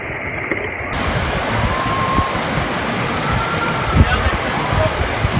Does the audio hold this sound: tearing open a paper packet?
no